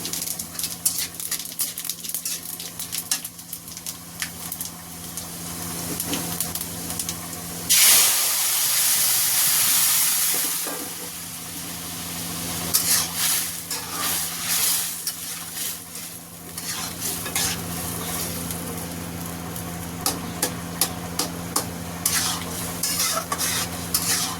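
Onions fry in hot oil as panch phoron spices go in, making a steady crackling sizzle with stirring scrapes, then a sudden loud hissing burst of steam that fades before the sizzling resumes.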